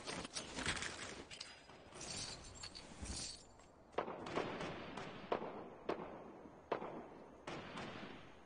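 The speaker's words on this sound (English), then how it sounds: "There's already some shooting over there." Faint, far-off gunfire in the Fortnite battle royale video game, heard as a series of sharp, distant cracks spaced under a second apart over a low background.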